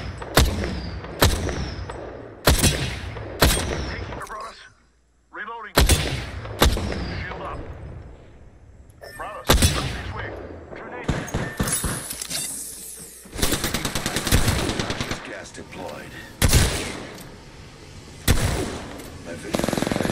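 Gunfire in Apex Legends rattles in rapid automatic bursts and single cracks, loud and close, broken by short pauses, while voices talk over and between the shots.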